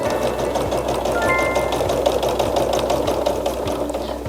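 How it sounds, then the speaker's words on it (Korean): A sewing machine stitches layered quilt fabric with handle straps pinned between the outer pieces, giving a steady, rapid mechanical whir and needle patter that runs continuously, close and fairly loud. "아마 이 부분 박으실 때 재봉틀은 무리 없이 넘어갈 텐데요"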